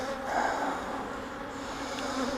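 Disturbed honeybees at mating nucs, a dense, agitated buzzing swarm close to the microphone, droning continuously with shifting pitch and no voices.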